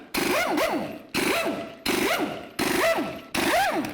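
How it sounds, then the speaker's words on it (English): Five bursts of a ratcheting air impact wrench spinning off 22mm lug nuts on a 1999-2007 Chevy Silverado front wheel, each a rising-and-falling whir with clicking, separated by short pauses. "Let's remove our 22mm lug nuts."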